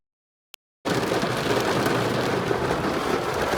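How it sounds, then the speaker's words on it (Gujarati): Heavy monsoon rain pours down in a loud, dense, unbroken hiss that starts abruptly after a short silence and a single click, with water lying all around. "બ્લોગની શરૂઆત મેઘરાજાની સવારી સાથે થઈ ગઈ છે. જબરજસ્ત વરસાદી માહોલ."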